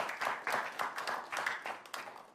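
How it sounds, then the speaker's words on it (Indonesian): Applause at a regency head candidates' debate in Serang, a group clapping together in rhythmic bursts that hold steady and then begin to thin out, moderately close, with no voices over it. "boleh berikan tepuk tangan."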